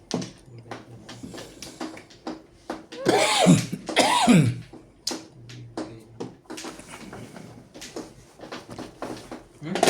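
Two harsh, forceful coughs stand out in the middle of a mahjong game, surrounded by quieter background noise and scattered clicks and taps.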